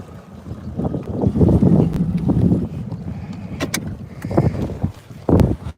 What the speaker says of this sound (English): right now, guys, the wind is kind of bad